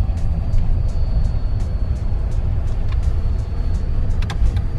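A car drives along a snow-covered road, giving a steady low rumble heard from inside the cabin, with faint light ticks and clicks over the top.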